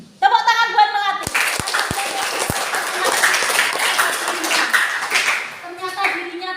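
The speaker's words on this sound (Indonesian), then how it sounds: "Tepuk tangan buat melatih." An audience bursts into hearty hand clapping, loud and close, with a few sharp individual claps early on. The applause sustains for several seconds, and voices speak just before it starts and as it tapers off.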